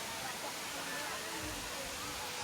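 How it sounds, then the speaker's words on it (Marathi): Valavali waterfall pouring steadily as a broad, continuous roar of falling water, nearby and even-toned, with no voices over it. "हा धबधबा खूप छान आहे."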